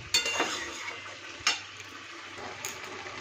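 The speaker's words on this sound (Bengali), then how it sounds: "এই যে সমস্ত কিছু মশলা দিয়ে এবার কষানো হচ্ছে" Spices and gourd-leaf greens sauté in a pan for a vegetarian chorchori. A soft, steady sizzle runs under three sharp spoon knocks against the pan, spaced about a second apart.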